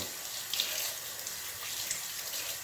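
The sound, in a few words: rinsing juicer parts under running tap water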